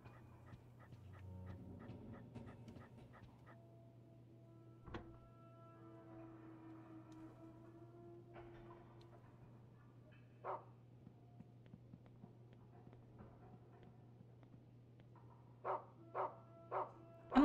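A dog in the Rule of Rose video game barks and pants faintly, with a few isolated barks and a short burst of sharp barks near the end, set against a low steady hum.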